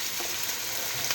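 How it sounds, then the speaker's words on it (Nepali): Fresh mint sizzling and frying in a pan for chicken pulao, a steady close hiss of hot oil with faint stirring scrapes, no talking. "मिक्स गर्दै फ्राई गर्दैछौँ।"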